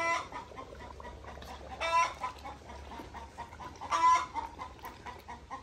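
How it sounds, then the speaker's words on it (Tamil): A hen that has just laid an egg clucks and cackles loudly in two sharp bursts, with steady lower clucking and farmyard noise in between. "கோழி முட்டை இட்டுட்டு கொக்கரிக்கிற"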